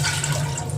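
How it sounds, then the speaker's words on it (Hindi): Water pours into a pan on a gas stove for a homemade cough remedy, a short, steady splashing stream heard alone. "तो हम इसमें डालेंगे 2 कप पानी"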